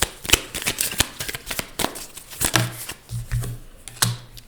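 Tarot cards being shuffled in a deck, a rapid burst of crisp riffling flicks and taps close by with no talk over it.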